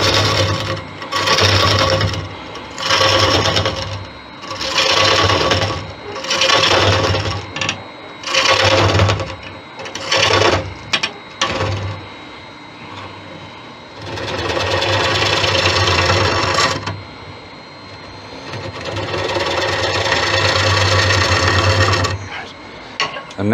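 Woodturning lathe cutting away the middle section of a deep Malaysian acacia wood bowl: loud, close scraping and rasping bursts of tool on spinning wood come in repeated passes with brief pauses, plus one long steady cut, and no voices.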